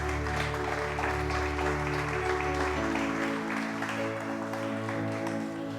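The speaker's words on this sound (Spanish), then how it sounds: "Dale un aplauso al Señor, por favor." Church congregation claps during a Spanish-language sermon, a continuous spread of applause from many hands over sustained music tones, steady in level throughout.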